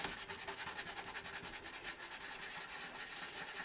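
Rapid back-and-forth rubbing of 1500 grit sandpaper on the finish of a Gibson J40 acoustic guitar top, a close, steady rasping rhythm with no voices.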